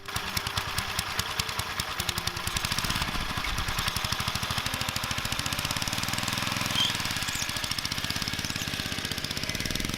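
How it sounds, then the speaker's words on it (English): A small motorized bicycle engine with a carburetor extension idles steadily up close, a fast even putter with a rattly, knocking edge that holds for the whole stretch. "Our little carburetor extension worked great, and the engine just idles perfectly."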